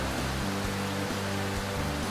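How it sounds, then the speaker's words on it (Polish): Sudden tropical rain on a desert island, a steady hissing wash of downpour that stays even and unbroken throughout, with a low hum beneath it. "O, tropikalny deszcz."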